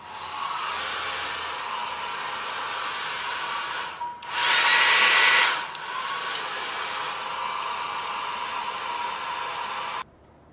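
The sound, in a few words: hair dryer with diffuser drying hair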